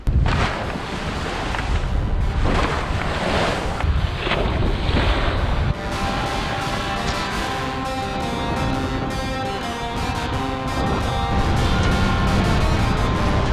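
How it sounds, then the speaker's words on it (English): Strong, steady wind roars over a sailing boat while waves slosh and splash against the hull, constant and close throughout, with no voices. "The next morning we're off early and the wind has steadied and picked up."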